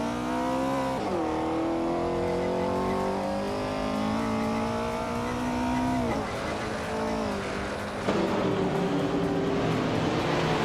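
A 1963 TVR Griffith 200 and other Group 3 race cars in a racing video game roar off the start line, engines revving loud and steady with rising pitch shifts and a fresh surge of acceleration near the end.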